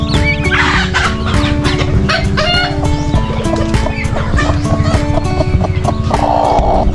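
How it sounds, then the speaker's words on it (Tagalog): Hens clucking among newly hatched chicks in a backyard poultry pen, busy overlapping calls and peeps close by under constant background noise. "nagpisa, sisiw. May sisiw na naman siya."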